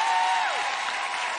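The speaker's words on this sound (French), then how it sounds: "Ceux qui ont aimé Christophe Beaugrand, vous applaudissez." A short burst of studio audience applause on a French comedy improv show, steady dense clapping at moderate level with a faint tonal sweep passing through.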